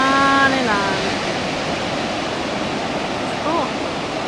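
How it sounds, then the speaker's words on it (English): Continuous hiss of ocean waves washing on the beach at Morro Bay, a voice speaking briefly over it at the start and again faintly later. "This is the beach in Morro Bay."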